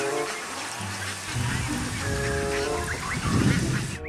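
A white duck in an animal-cleaning video game gives several short nasal quacks and honks, bright and close, over soft watery game sounds and light music tones.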